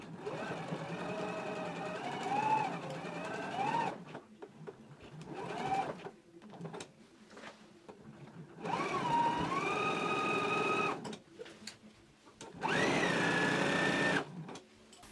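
A sewing machine stitches a seam on a garment in bursts of whirring motor and needle chatter, several runs of a few seconds each separated by quieter pauses, close and clear.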